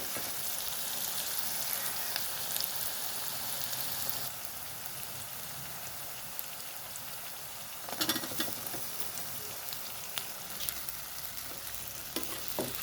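Potatoes sizzle and fry steadily in a pan, a dense hiss with occasional sharper crackles and a few clatters of stirring.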